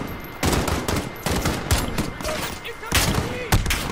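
Rapid automatic gunfire in a Call of Duty: Modern Warfare campaign firefight, several loud bursts of close shots in quick succession with a brief shouted voice between them.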